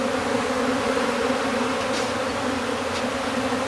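A dense, steady buzz of many honeybees around a swarm fills the air, close and continuous, with a few individual bees droning louder as they pass near.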